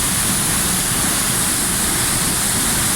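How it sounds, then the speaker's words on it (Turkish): Pamukluk waterfall near Pamuklu village in Mut, Mersin, spilling through a semicircular natural rock hollow, gives a loud, unbroken roar of rushing water heard up close for the whole stretch. "Şelale çok güzel bir doğal oluşumun içinden akıyor."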